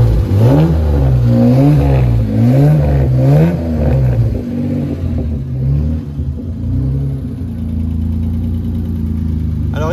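A Jaguar XKSS replica's engine revs up and down with a generous, throaty exhaust, loud and close, rising and falling several times before settling into a steady rumbling idle.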